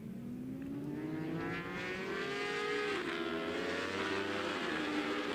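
Superstock 1000 racing motorcycles, including a Suzuki, circle the Most circuit in the Czech Republic on a warm-up lap, several engines droning and rising in pitch together at a distance, steady and continuous.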